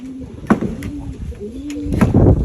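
Pigeons in a loft coo close by, with soft repeated rolling calls and some wing flutters and rustling, all without speech.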